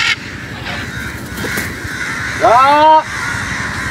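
A crow caws loudly once, a harsh drawn-out call standing out over steady outdoor wind and background noise near a mosque in Melaka, with someone speaking briefly.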